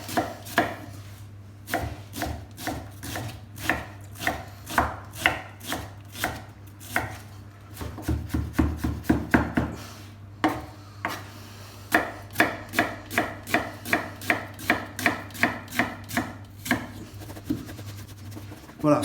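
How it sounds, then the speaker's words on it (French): A knife chops an onion on a cutting board in quick, steady strokes that run almost nonstop, fast at times and slower at others. The close, crisp thuds come over a low constant hum. "Alors là, je vais couper mon oignon."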